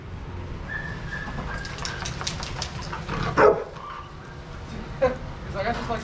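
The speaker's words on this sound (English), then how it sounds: "Loud bark." Dogs at a daycare bark a few times in short bursts over a background of voices and general noise.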